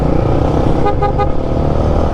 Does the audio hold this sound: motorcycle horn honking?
yes